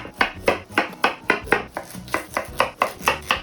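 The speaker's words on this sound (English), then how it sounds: "I also chop up some carrots" Carrots being chopped with a knife on a board, a quick, even run of about a dozen crisp close chops with no voices.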